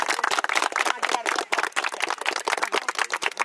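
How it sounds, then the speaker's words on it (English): Youth football players on a 14U spring team clap together in a steady flurry of close, sharp hand claps, with a few voices mixed in. "Clap it loud."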